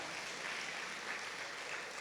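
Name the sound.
church congregation applause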